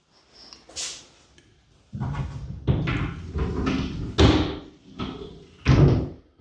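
A newly installed closet door opened and closed several times, each swing ending in a sharp knock or thud, with irregular pauses between the bumps and some light rustling.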